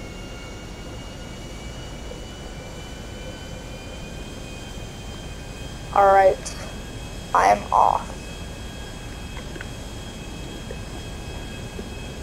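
A fully gold private jet in GTA V makes a steady, even engine drone with a high whine, and a voice speaks briefly over it.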